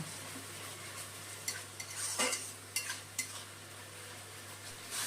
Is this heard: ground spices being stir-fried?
yes